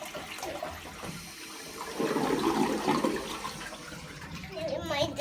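An old toilet flushes in a courthouse restroom, a rushing, gurgling wash of water that swells midway and then drains off, with room echo.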